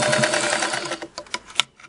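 A sewing machine sews through four layers of Levi denim on a long stitch setting, a close, rapid mechanical chatter that slows into a few separate clicks and knocks before stopping.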